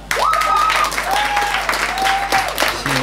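Applause at a short-film screening in a café in Buzău, steady clapping joined by long whoops and cheers from the crowd, with a low electrical hum underneath.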